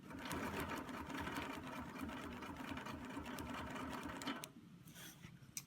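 A sewing machine stitches a Baptist fan quilt border, running steadily with a dense rapid mechanical chatter for several seconds before slowing and stopping, close and fairly quiet.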